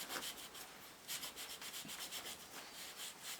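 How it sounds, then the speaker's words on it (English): A Lucas M35J starter motor drive bearing from a classic Mini or Triumph TR6 is scrubbed with a Scotch-Brite pad, giving steady close rhythmic abrasive rubbing strokes, no talking. "I can't really clean this up, the drive bearing, very well, so I'm just going to have to use a bit of Scotch-Brite."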